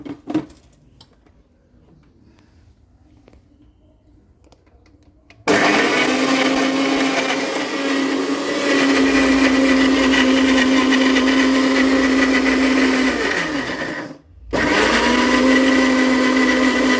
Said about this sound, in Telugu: దీన్ని మిక్సీ పట్టుకుందాం.